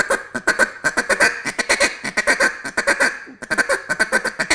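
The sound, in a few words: duck call imitating feed chatter of ducks feeding on water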